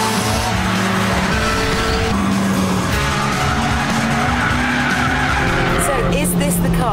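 A Japanese-market Honda Civic Type R on a test lap squeals its tyres loudly and steadily, with engine roar underneath and a continuous skidding screech from start to finish.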